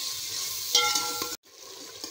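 Onions and chopped garlic frying in a pan with a little water for aloo gobi, a close hissing sizzle with stirring clinks that cut off abruptly before resuming more quietly.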